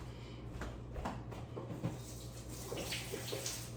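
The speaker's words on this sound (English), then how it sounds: "Let me rinse my hands off." Hands rinsed under a running kitchen tap, a steady close rush of water with splashing changes as the hands move, no talking.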